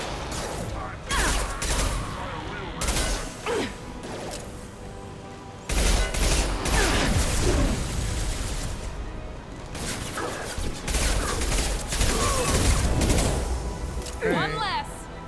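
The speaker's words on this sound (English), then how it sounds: "Firing an impact shot!" An impact shot fires in Mass Effect 2 combat, with loud blasts, crashes and gunfire arriving in heavy bursts across a chaotic fight.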